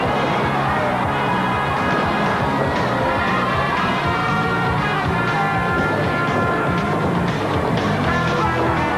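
A large live audience at a masked wrestling event cheers and roars continuously, a dense, loud wall of crowd noise with shouts and whistles rising through it, no single voice standing out.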